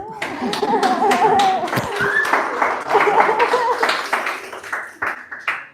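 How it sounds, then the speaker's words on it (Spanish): A church audience applauds a woman's contribution during a sermon, with scattered, uneven clapping and some light laughter mixed with voices. The claps thin out toward the end. "Te mereces un aplauso, Sarita."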